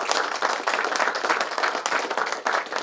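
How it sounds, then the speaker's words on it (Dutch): A small audience at an event about a smart energy grid on Ameland claps steadily and fairly close by for a few seconds, with light crowd murmur underneath. "Een applaus, heel goed."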